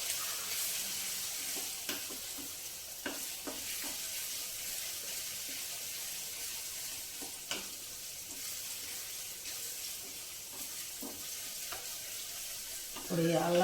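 Ginger and garlic frying in a pan for a mutton drumstick curry, a steady sizzle with scattered stirring clicks and scrapes, fairly faint and continuous, no voices.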